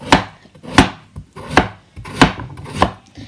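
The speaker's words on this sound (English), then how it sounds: "I'm just going to show you roughly how thin to slice them" A knife slicing potatoes thinly on a board for leek and potato soup, five crisp, evenly spaced chops, close and loud, with no talking.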